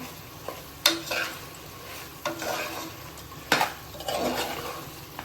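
Chicken kulambu with curd is stirred in a pot, with several scraping and clinking strokes of a utensil over a soft simmering sizzle.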